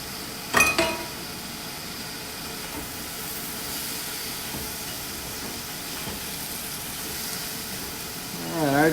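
Shrimp frying in a hot pan for a seafood chicken stir fry, a steady loud sizzling hiss throughout, with a brief clink of a utensil near the start and another at the end.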